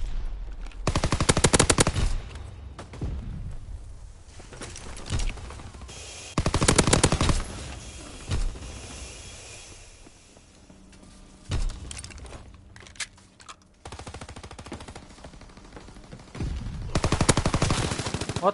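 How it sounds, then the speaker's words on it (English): Automatic PPSh submachine gun fire in the Call of Duty WW2 video game, with several loud sustained bursts separated by quieter gaps and no talking. "You get me for pistol when I'm shooting at you with PPSH?"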